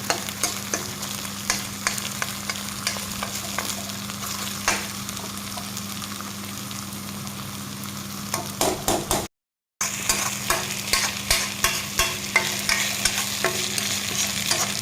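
Steady sizzling of meat and potatoes frying in a pan, with frequent scraping and stirring clicks from a utensil, briefly cut off by a moment of silence.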